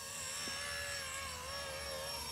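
A Blade 230S RC helicopter flies nearby with a steady high-pitched whine from its rotors and motor, its pitch rising and falling gently as it moves, with no talk.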